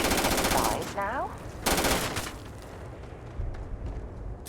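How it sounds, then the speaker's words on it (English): Gunfire in the video game Starfield: two loud bursts of rapid automatic fire with sharp pops between them, fading to scattered shots and a low background rumble, with brief talk in the mix. "Are you shooting inside now?"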